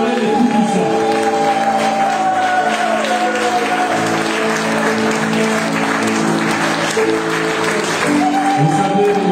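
A church congregation at a worship assembly applauds and cheers, a loud, sustained wall of clapping that fills the whole stretch, with sustained musical tones and voices running beneath it.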